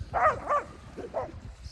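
A few dog barks or yips at a moderate distance, two close together then two more, with light background noise.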